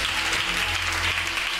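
A church congregation applauding and cheering for Jesus, dense steady clapping from a large crowd filling the room, loud and continuous throughout.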